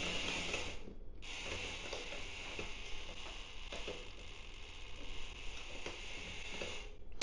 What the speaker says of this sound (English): Ah, it's in the wrong gear. I'm like, why is it grinding?